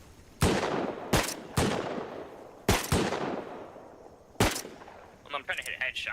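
Revolver gunshots in the survival video game Rust, five sharp loud reports fired at uneven intervals with short decaying tails, followed by a brief clicking reload-like rattle.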